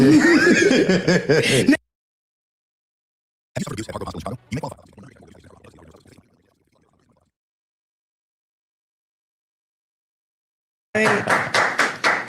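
Several people clap in quick rhythmic bursts at the back of the room during an interview, loud and close, separated by long stretches of silence.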